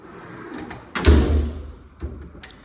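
A metal tool drawer in a garage toolbox sliding open with a loud rolling rumble and clatter, followed by a smaller knock, close by and without talk.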